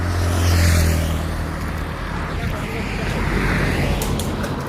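A safari vehicle moves off outdoors, its low engine hum and road noise swelling briefly early on, then continuing steadily with wind-like hiss and some faint background voices.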